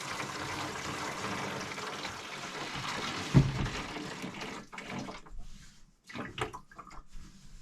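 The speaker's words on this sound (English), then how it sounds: "put some fresh water in them" Fresh water runs into water jugs at a remote Alaska cabin, a steady close gush with one loud knock partway through, then breaking into uneven trickles and splashes as the flow stops and starts.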